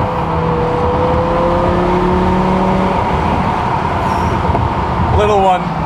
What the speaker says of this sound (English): I'm gonna get a few more rips and some good old S85 V10 noises in